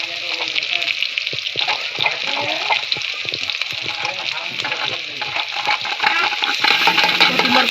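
Chillies and potatoes sizzle and crackle in a hot pan, a steady frying hiss with scattered pops and stirring scrapes throughout, close and moderately loud.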